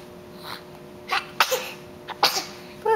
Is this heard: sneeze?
yes